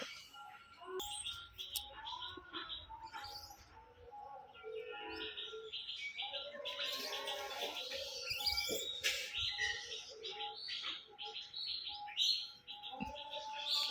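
Several birds chirp and tweet around a house where tiling work is under way, with busy overlapping calls close by throughout and a few sharper peaks, no talk heard.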